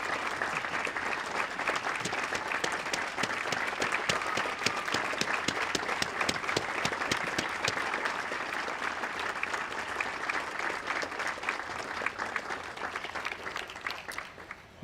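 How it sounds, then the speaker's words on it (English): An audience at an Ames Municipal Band summer concert gives a long, sustained round of applause for a longtime band member, the clapping dense and fairly distant, holding steady before thinning near the end. "How about another rousing round of applause for Terry Adams, 67 years in the band."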